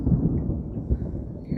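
Thunder from an approaching storm rolls low and deep, a continuous rumble with a slight swell near the middle, heavy and fairly close.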